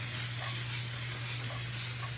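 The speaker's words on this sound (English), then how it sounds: "we're going to saute this for about 4 to 5 minutes" Vegetables seasoned with salt and fresh pepper saute in a pan, giving a steady, soft sizzle and hiss that runs unbroken with no voices.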